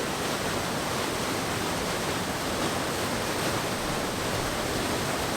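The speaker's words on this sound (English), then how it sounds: "you can see how much water is just flying down" Floodwater of the River Severn rushing downstream, a steady, dense broadband roar that holds constant and close throughout, with no voices over it.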